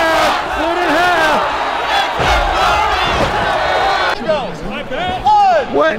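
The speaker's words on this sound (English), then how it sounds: "That's a capacity crowd." Packed wrestling arena crowd cheering loudly, a sustained roar of yells and whoops with a heavy thud from the ring partway through, then the noise drops briefly before surging again.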